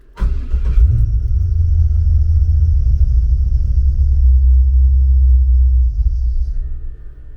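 A car engine cranks and catches almost at once, then idles in a loud, steady low rumble for about six seconds before fading; the car has an unresolved running fault that a new throttle position sensor did not fix.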